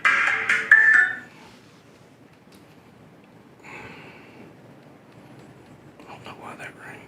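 A phone ringtone chirps loudly in a short burst at the start, then fades into quiet room tone with faint voices in a sheriff's office deposition room.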